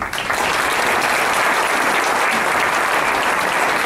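An audience at a community meeting gives a sustained, loud round of applause for Larry, dense clapping that holds at full intensity without pause.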